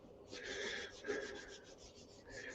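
A piece of wood is rubbed or sanded by hand in short, quick, rhythmic strokes, close and fairly quiet.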